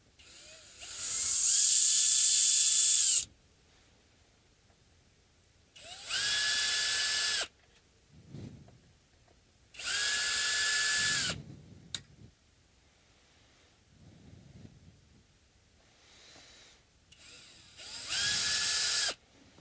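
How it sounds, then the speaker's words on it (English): Power tool, a small drill or driver, removing hardware from an Ibanez RG550 guitar, four loud high-pitched whirring bursts of two to three seconds each, separated by quiet pauses with faint handling clicks. "now I use a power tool to remove them"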